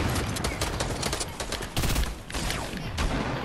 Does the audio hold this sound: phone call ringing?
no